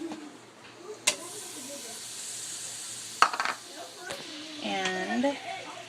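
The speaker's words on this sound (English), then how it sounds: "Now I'm going to take my butter and melt it in the same pot" Butter melting in a pot on the stove, a soft steady hiss and faint sizzle with a few utensil clinks, while a person talks over it.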